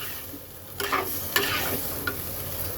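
Spices and chopped bottle gourd being stirred and fried in a pan, with a steady sizzle and a few distinct scraping strokes of the spoon, close and fairly quiet, no talking.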